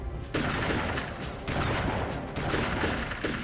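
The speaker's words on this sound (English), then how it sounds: "A shotgun that can actually manage to hit us from a long distance in this game." Heavy shotgun blasts in the video game Army Men Sarge's Heroes pound out in a dense, booming series, overlapping with loud rumbling battle noise throughout.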